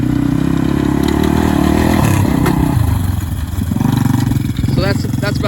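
A 1999 Yamaha Warrior 350 ATV makes a close, loud flyby, its engine droning and revving with a clattery rasp, the pitch dropping as it passes and shifting gears, with no talk over it.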